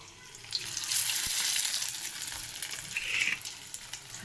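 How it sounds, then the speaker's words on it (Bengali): Stuffed prawn and potato pieces fry in hot oil, a soft bubbling sizzle that swells as pieces drop in, fairly quiet and close with no one speaking. "একটা করে আমি ভাজবো"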